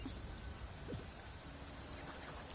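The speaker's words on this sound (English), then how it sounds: "It was raining that day." Steady rain falling during a flashback scene in the Genshin Impact video game, an even, dense hiss of drops on surfaces heard throughout, faint and alone with no voices.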